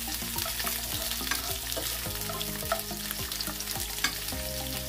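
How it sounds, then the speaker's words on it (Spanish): Onion sautéing in a pan gives off a continuous crackling sizzle, with frequent stirring scrapes and light utensil taps throughout. "vamos a estarla meneando para que se sofría"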